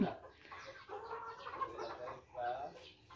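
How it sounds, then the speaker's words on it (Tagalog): Chickens cluck and call near the front of a rural yard in the Philippines, a steady mix of soft bird sounds with brief background voices. "nandito na sa harapan yung mga manok"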